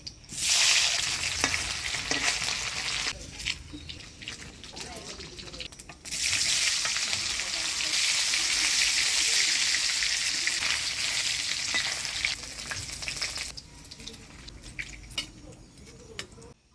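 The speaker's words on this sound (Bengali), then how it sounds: "সাদা তেলে ছানাগুলা ভাজি নিব। ছানাগুলা হালকা লাল লাল করে ভাজে নিব।" Chhana (paneer) cubes made from homemade cow's milk frying in white oil, a steady loud sizzle and crackle that drops away briefly, surges back and keeps hissing, with occasional scrape of stirring and no talk.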